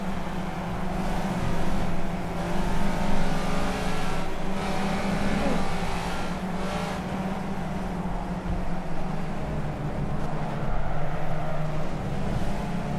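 A race car engine in the racing video game Project Cars drones steadily at high revs throughout, loud and continuous, with a faint voice intermittently underneath.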